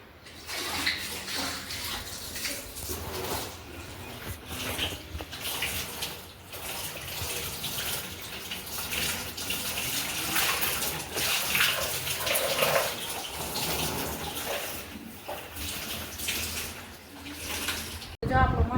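Water gushes and splashes into the drum of an automatic washing machine during cleaning, a continuous rushing flow with faint voices talking underneath.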